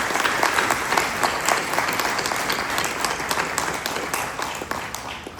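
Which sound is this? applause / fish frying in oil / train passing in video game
applause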